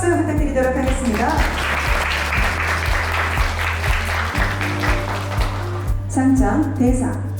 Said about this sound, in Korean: 여러분 큰 박수 부탁드리도록 하겠습니다